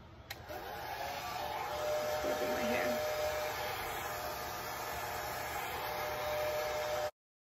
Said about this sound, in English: My little blow dryer